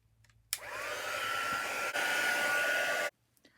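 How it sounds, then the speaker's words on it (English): A hair dryer blows steadily for about two and a half seconds while drying used tea bags, switching on abruptly, holding a loud, even whoosh with a high whine, then cutting off; no one talks. "I dry them with the dryer because they dry so quickly"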